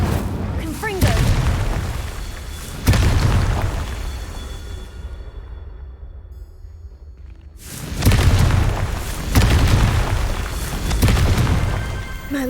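Spell blasts from Incendio and Confringo in the Hogwarts Legacy game on PS5, with loud booming bursts at the start, a quieter stretch in the middle, then more heavy explosive impacts, and a voice talking over parts of it.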